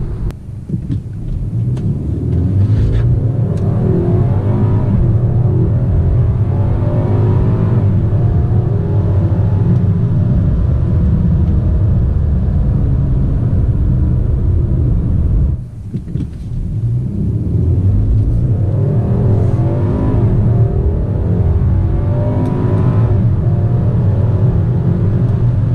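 A BMW 330i xDrive M Sport accelerates hard from a standstill, its engine roaring low and heavy, climbing steadily, easing briefly at a gear change, then pulling strongly again.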